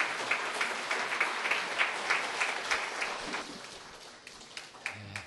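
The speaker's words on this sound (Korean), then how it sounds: "나올 때를 박수로 환영해 주시면 감사하겠습니다" A church congregation at a worship service in Osaka applauds to welcome a pastor coming up to give a congratulatory address, a steady wash of many hands clapping that fades toward the end.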